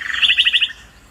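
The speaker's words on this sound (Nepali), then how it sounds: "चराहरूको चिरबिर आवाजहरू पनि हामी सुन्नमा पाएका छौँ है।" Small forest birds near a waterfall give a quick run of bright, repeated chirps for under a second, loud and close, over a faint steady wash of flowing water.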